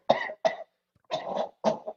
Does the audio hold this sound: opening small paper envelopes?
no